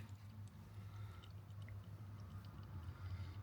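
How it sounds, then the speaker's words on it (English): Water drains through an opened lever valve on a truck's oil catch can, a faint, close trickle and dripping spatter over a low steady hum, with no talking. "That's a lot of water coming out."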